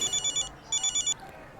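A phone rings in short bursts of electronic trills, two clusters separated by a brief pause, loud and close with no talk.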